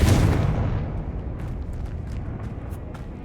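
Confringo fire spell blast in the video game Hogwarts Legacy, one loud booming explosion that hits at once and then rumbles and fades over a few seconds, with faint clicks near the end.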